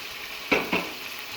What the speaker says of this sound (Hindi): अब इसमें ऐड करेंगे मटर